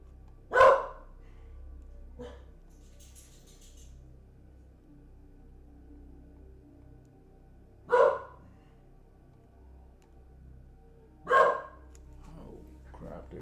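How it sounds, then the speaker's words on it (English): A dog barks three separate times with long pauses between them, each bark sharp and fairly close, over a steady low background hum with no talking. "this crazy dog."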